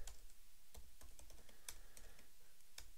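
Soft typing on a computer keyboard while a date is entered into an Excel spreadsheet: a quiet, irregular patter of crisp key clicks, heard alone.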